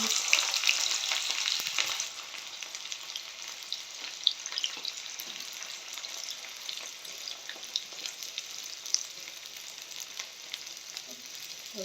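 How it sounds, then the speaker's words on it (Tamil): Steady, busy sizzling of onions frying in hot oil, louder at first then settling into a constant crackle with scattered pops. "இப்போ வந்து கொதிச்செண்ணெய் தானே. அப்போ நாங்கள் வந்து முதலாவது வந்து வெங்காயத்தை போடுவோம்"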